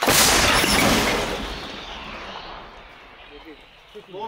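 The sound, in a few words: mortar battery firing a shot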